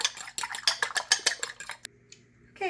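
Eggs with a pinch of salt are beaten in a bowl for sushi, a rapid run of about a dozen sharp metal-on-bowl clinks in quick rhythm, close and crisp, then a brief pause and a final scrape.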